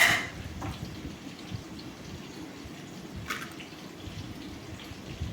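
Dal lentils being rinsed in water, a steady quiet wash of sloshing and trickling with faint drips, close and alone with no speech.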